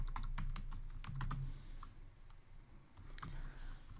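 Code typed on a computer keyboard in quick, close bursts of clicking keystrokes, with a short pause midway before the tapping resumes.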